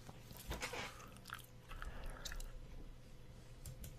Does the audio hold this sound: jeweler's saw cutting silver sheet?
no